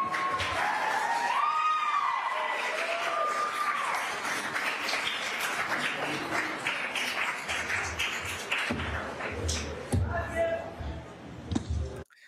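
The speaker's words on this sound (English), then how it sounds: "the crowd applauds when she comes into the courtroom" A courtroom crowd breaks into applause as a woman enters, with scattered clapping building under ongoing talk and louder bursts of crowd noise near the end.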